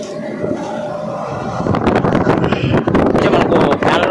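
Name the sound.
air fans blowing air in Belum caves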